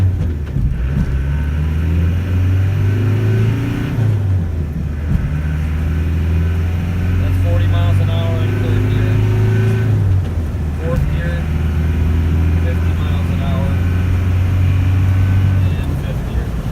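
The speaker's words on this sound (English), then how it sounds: "and then we'll accelerate" A 1993 Land Rover Defender 110 with the 200tdi diesel engine accelerating from inside the cab, its loud droning engine note climbing and dropping through gear changes, with a person talking over it.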